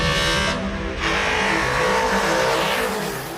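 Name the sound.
Mercedes 8-cylinder racing-derived car engine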